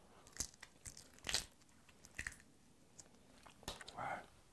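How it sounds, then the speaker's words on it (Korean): Someone eating shrimp (flower shrimp) with soju: faint, close crunches, bites and wet chewing in scattered bursts over a quiet background. "자, 하나씩은 감질 나니까 한 3개 정도 해가지고 먹어봅시다."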